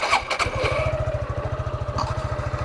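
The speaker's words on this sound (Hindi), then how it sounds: "मैं आपको एक बार गाड़ी स्टार्ट करके दिखा" A Suzuki Gixxer SF 155 motorcycle cranks briefly, then catches and settles into a steady, rhythmic low idle thump close by.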